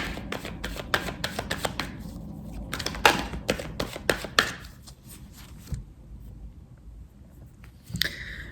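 Oracle cards are shuffled close up in quick riffling bursts with crisp flicks and slaps, followed by a quieter stretch with a few soft card sounds.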